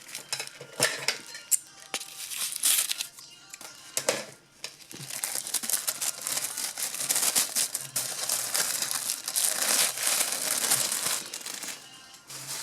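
Paper is crinkled and torn away from a model train car roof from a Branchline Pullman heavyweight sleeper kit, a close, busy run of rustling and crumpling with brief pauses, growing steadier in the second half.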